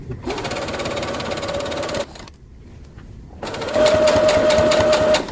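A sewing machine stitching fabric along a curve, running loud and close in two steady runs with a brief slowdown and near pause between them.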